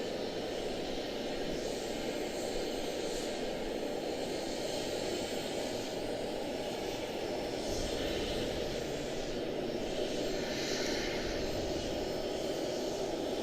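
An airliner taxies at Charlotte-Douglas airport, its steady engine roar holding at moderate level throughout with a broad, even wash and no break.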